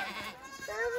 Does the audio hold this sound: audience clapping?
no